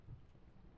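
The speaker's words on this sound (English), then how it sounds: "When will it stop raining?" Rain falls steadily in Minecraft with a low thunder rumble, faint and distant, without speech.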